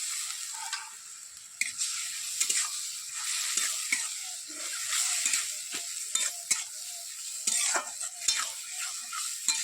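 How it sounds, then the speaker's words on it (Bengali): Spice paste with chili paste, onion and a little water stir-fried in a pan for a prawn and papaya curry. A loud, steady sizzle runs throughout, broken by frequent light scrapes and taps of a spatula. "মশলাটা একটু ভালো করে একটু কষবো।"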